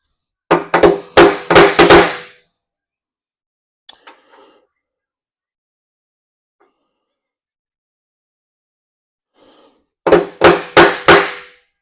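Two quick bursts of sharp metallic hammer strikes on a center punch into a Mack Cruise Liner truck frame, about four rapid blows each, loud and close, separated by near silence with a few faint clinks.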